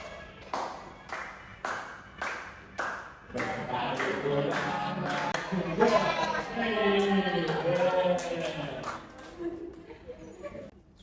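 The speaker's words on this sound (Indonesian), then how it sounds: "kalau bisa terus tepuk tangan ya" Children in a fifth-grade classroom clap their hands in a steady, evenly spaced beat, then keep clapping as voices join in singing a song together.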